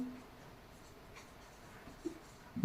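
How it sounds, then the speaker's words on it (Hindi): Faint scratching of a pen or marker writing on paper or a board, quiet and close, with a few soft taps near the end and no speech. "मैं यहां लिख दे रहा हूं"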